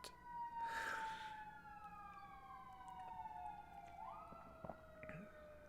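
A wailing emergency siren sweeps up and down steadily at moderate distance, with a second siren tone rising in near the end and no talking.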